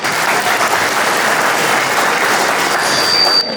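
A crowd at an Albanian community fundraising campaign event gives a sustained round of applause, dense, steady clapping that holds at an even level for several seconds before cutting off sharply near the end.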